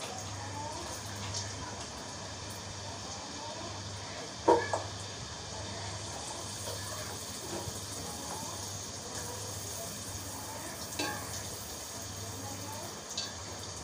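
Rice flour pitha batter fries in hot oil with a soft, steady sizzle at low level, broken by a brief clatter, while a person talks over it.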